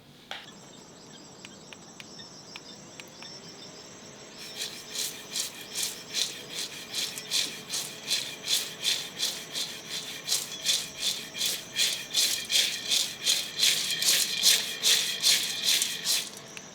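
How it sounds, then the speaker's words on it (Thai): A small electric fan blows over roasted peanuts being winnowed, starting with a quiet hum, then a run of rapid, evenly pulsing rattles as the peanuts are shaken and tossed, growing steadily louder and continuing to the end. "ผมก็จะใช้เป็น นี่ เลย เครื่องทุนแรงครับ พัดลม เล็ก ๆ ก็ ได้ ครับ"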